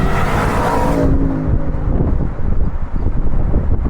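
Porsche Cayenne Turbo GT accelerating hard, a loud close engine roar with rising tones for the first second, then heavy wind buffeting and road rumble as speed builds.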